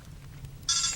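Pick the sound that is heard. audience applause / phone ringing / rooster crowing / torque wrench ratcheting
phone ringing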